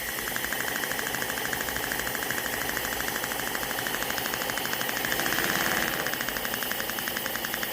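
An air-powered V4 paper engine prototype idling: a fast, even, rattling chatter of pulses with a steady hissing whine, close and continuous, swelling slightly near the end, with no voices.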